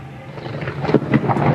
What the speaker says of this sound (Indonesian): Kencang sekali geluduknya tadi.